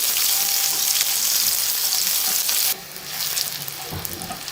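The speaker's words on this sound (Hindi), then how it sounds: "प्याज लाइट ब्राउन हो गए हैं" Onions frying in hot oil until light brown for chicken biryani, a loud, dense close sizzle that drops abruptly partway through and continues more softly with faint stirring, no voices.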